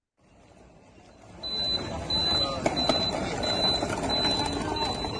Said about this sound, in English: You were able to hear a beeping sound like this.